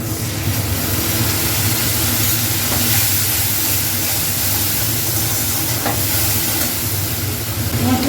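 Spice paste sizzles and fries steadily in hot oil for a Bengali papaya and potato curry, a dense continuous hiss with occasional stirring scrapes close by, no voices.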